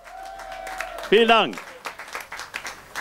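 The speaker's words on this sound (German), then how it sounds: "Vielen Dank für den kräftigen Applaus." Audience applause at a wine festival rattles in the background while someone speaks over it.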